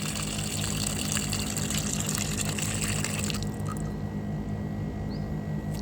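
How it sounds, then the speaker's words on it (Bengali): Water pours into rotted plant fertilizer in a steady, loud gushing rush that thins to a quieter trickle partway through, close by with no talking. "দেখো আমি ওগুলোর মধ্যে জল মিশাচ্ছি।"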